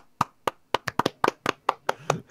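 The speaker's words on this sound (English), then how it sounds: "Let's clap for Deli's made bed." About a dozen sharp hand claps in quick, uneven succession, close and clear, with nothing else behind them.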